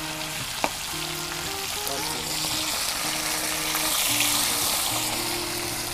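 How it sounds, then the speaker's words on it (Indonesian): Fish frying in a pan for a Sundanese liwet meal cooked outdoors in a rice field, a steady loud sizzle and crackle of hot oil with occasional stirring clinks and background music tones. "Di sini ikannya aku goreng dulu biar nanti matangnya itu merata"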